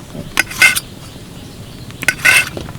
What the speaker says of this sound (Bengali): বাকি রোলগুলো আমি একইভাবে কেটে নিচ্ছি